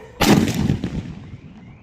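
An atom bomb firecracker set off for Diwali bursts in one loud, booming blast, followed by a rumbling echo that fades over about a second, with faint crackle trailing behind.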